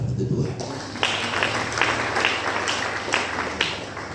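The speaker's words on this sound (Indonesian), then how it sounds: "Masih tepuk tangan untuk Tuhan" A church congregation at a Christmas service applauds, a moderate burst of clapping that swells in uneven waves after a brief low rumble of voice at the start.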